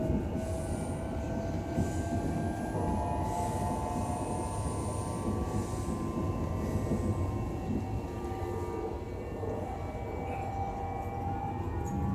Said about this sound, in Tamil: ட்ரெயின் போயிட்டுருக்கு